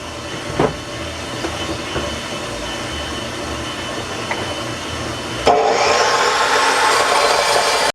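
A saw cuts 1.5-inch Schedule 80 steel pipe into short segments. There is a scraping metallic wash in the workshop, and then the cutting suddenly gets louder with a steady, bright, grinding hiss for the last few seconds.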